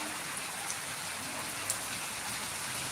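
Unseasonal rain pours down in Jambughoda, a brief, constant wash of raindrops hissing on the ground nearby, with no one speaking.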